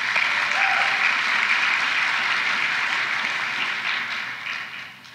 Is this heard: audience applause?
yes